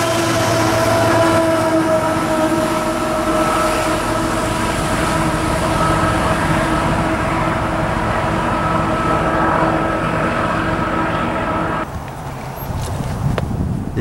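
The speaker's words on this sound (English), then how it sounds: "CSX will double its unit trains into one monstrosity of a consist" A long CSX unit freight train rolls past at Point of Rocks, a loud continuous rumble and clatter of wagons with steady tonal squeal, easing slightly near the end.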